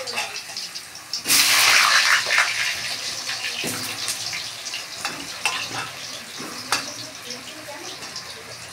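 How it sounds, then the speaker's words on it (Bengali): Potatoes frying in hot oil for a mutton kasa dish, a loud, bright, continuous sizzle that flares up strongly and then settles into a steady crackle with occasional clinks, close by. "আলুগুলো ভেজে নিচ্ছি"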